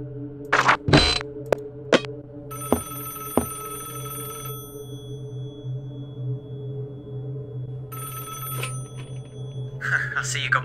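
A telephone rings in Five Nights at Wario's 2, several sharp bursts and longer trilling rings spaced across the span, loud and close over a low steady hum.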